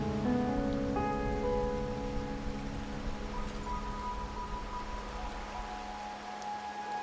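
Steady rain falls in the video game Wuthering Waves, a dense continuous hiss with soft tonal game ambience underneath and no voices.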